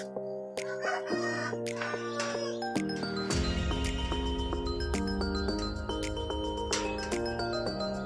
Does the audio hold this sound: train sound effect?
no